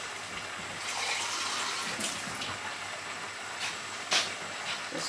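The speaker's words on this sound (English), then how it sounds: "I'm going to put more water in" Water pours steadily into a pot of cooking rice for curry chicken, a continuous close rush with a brief louder splash near the end.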